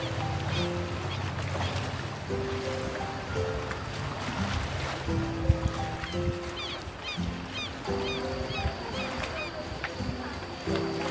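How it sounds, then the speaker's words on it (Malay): Small boat engine idling on the sea beside a jetty near Mersing, a steady low drone under nearby chatter, with honking goose- or duck-like calls scattered over it. "Ada bot ni."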